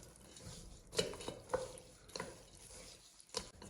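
Chopsticks stir an asparagus salad dressed with sesame oil in a bowl, giving soft, close scraping and tapping with a few sharper clicks, quiet overall and without talk.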